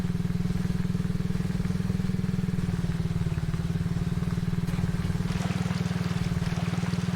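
An ATV engine in the survival game Subsistence hums at a steady, low, buzzing idle with a constant pulsing rhythm, close and even throughout, with no voices.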